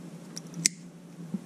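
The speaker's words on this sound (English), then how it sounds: "And then just cut the end out." A single crisp snip of scissors cutting off the end of a cable tie or wire during a dual joystick hardware install, quiet and close, with a faint second click a moment later.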